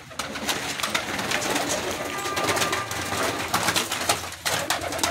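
Pigeons cooing close by, with dense, overlapping soft throaty coos that continue throughout, along with rustling and light wooden knocks.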